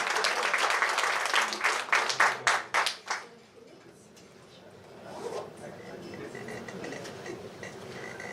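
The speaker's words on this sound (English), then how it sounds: "we want to give this orchestra a tremendous round of applause one more time" At a book launch with an orchestra present, an audience claps in a strong burst that thins into scattered final claps and fades out, followed by quieter room sound with some distant voices.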